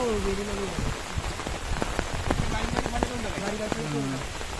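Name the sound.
rain falling after a night storm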